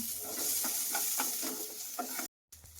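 Garlic cloves and small onions fry in a pan with a steady sizzle and occasional stirring scrapes, close and fairly loud, broken by a brief cut to silence near the end.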